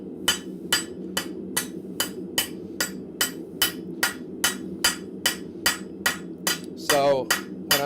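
A ball peen hammer strikes an anvil in a blacksmith shop with sharp, ringing blows at a steady, even rhythm, about two per second, close and loud, followed by a brief bright, wavering ring near the end.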